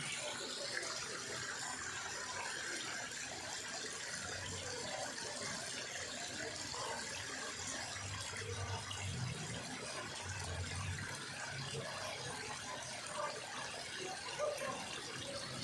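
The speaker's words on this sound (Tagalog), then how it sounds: "Kusang tumutulo yung tubig." Steady spring water trickles from the ground and splashes continuously, fairly close, with a faint low rumble underneath and no talking.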